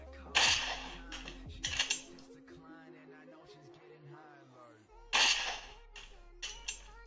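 Sharp bursts of game gunfire in rapid clusters, separated by a brief lull with electronic tones, loud and close.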